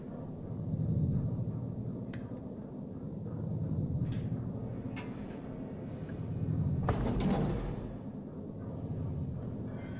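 Hospital elevator in the horror video game Silent Hill Homecoming, a low droning hum that rises and falls, broken by a few sharp metallic clicks and a louder clanking slide near the end.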